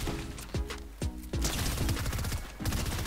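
Repeated bursts of gunfire in the video game Fortnite, with rapid volleys of shots and sharp cracks spaced out over a few seconds, loud and close with no talking.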